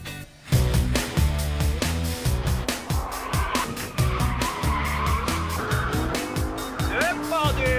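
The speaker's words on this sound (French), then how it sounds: "Pour célébrer ça, Romain finira par une petite leçon de comment s'amuser avec une R8 Speeder sur un circuit." Audi R8 driven hard on a race circuit, its loud engine revving through gear changes while the tires squeal and skid continuously, close and dominant throughout.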